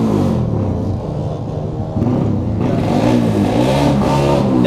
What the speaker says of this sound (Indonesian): Ini motornya digeber sama Bima.